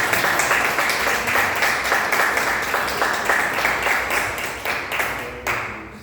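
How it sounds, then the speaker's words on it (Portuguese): A church congregation applauds together during a evening worship service, steady dense clapping sustained throughout and fading slightly near the end. "As palmas vão para Deus."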